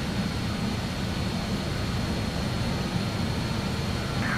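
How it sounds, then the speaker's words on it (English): Steady, even roar of an Avro RJ100 jet airliner's engines in Microsoft Flight Simulator, a continuous low-heavy drone with broadband hiss that holds at constant loudness throughout, with no talk over it. "It's a noisy aircraft."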